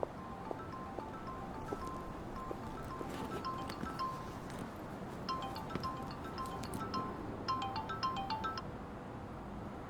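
Telephone ringtone chiming in a repeated electronic melody, moderately faint over a soft rustling background, with no voices.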